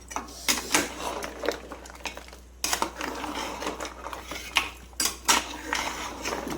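A spoon stirring Hyderabadi paya marag (trotters in yogurt curry) in a pot, giving irregular metallic clinks and scrapes against the pot, close and moderately loud.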